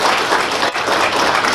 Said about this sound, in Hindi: तालियों का गड़गड़ाहट से स्वागत करते हैं